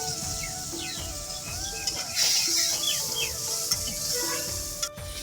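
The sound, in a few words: spice paste being stirred and fried in a pan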